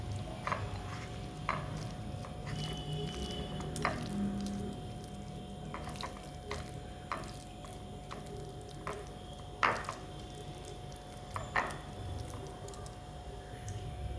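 Boiled potato mixture is mashed by hand with soft, wet squishing and squelching sounds, irregular and close up, with occasional louder slaps and pats over quiet background hum.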